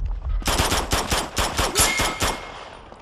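Loud automatic gunfire in the action game Uncharted 2 demo, close up: a rapid, rattling burst of shots that fills most of the moment, then fades into a faint tail with no speech.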